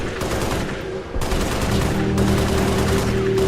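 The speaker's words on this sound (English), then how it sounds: "allow Yoshi to exercise his Second Amendment right by using a high-capacity, fully automatic assault watermelon" Yoshi's Island video game sound of Yoshi rapid-firing watermelon seeds, a dense burst of quick popping shots in two bursts over a constant game backdrop, loud and without speech.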